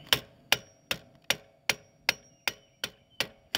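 A rusted-in BMX bottom bracket is tapped out with a hammer, nine sharp, evenly spaced knocks ringing close and clear with short decays between them.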